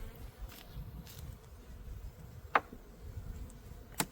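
Honeybees hum faintly and steadily around an open backyard hive on an early-March day. A couple of sharp little clicks or taps stand out above the low, even drone.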